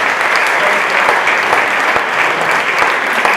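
Loud, sustained clapping from a large audience, dense and continuous throughout.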